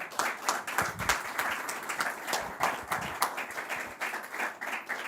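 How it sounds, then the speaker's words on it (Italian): An audience at a Verona peach promotion event claps warmly, dense and uneven applause swelling and dipping for about five seconds with no talk over it. "veramente chiedo un applauso caloroso"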